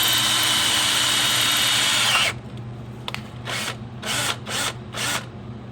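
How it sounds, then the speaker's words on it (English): A power drill bores through an ATI Super Damper LS-style crank pulley for a pin kit: one loud, steady whine for about two seconds, then several short, quieter bursts as the trigger is pulsed. "I drilled all the way through this time"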